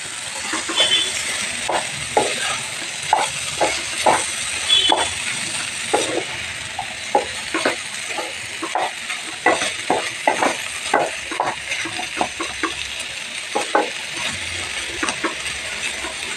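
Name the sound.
green beans frying and being stirred in a pan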